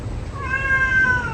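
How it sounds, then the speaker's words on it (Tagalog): Pet cats at a rural Filipino home give a single drawn-out rising meow, close and clear over a low rumbling background. "Mga alaga pusa."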